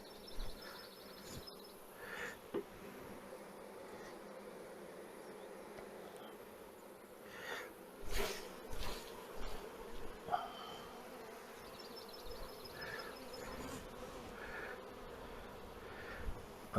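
Honey bees buzz inside a queenless nuc box as a faint, steady drone with small bumps and clicks from the hive being handled.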